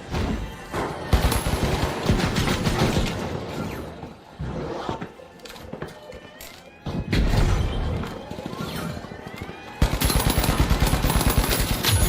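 Rapid automatic gunfire and explosive impacts crackle through a THE FINALS match, loud dense bursts broken by short quieter gaps, with occasional crashes and shattering debris.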